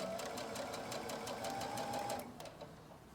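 A sewing machine stitches a long side seam with pockets through thick layers of fabric, its fast even needle chatter running steadily and close, then easing off and quieting near the end.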